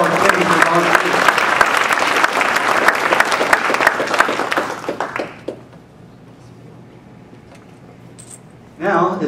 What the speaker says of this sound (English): a huge round of applause for all our committees and volunteers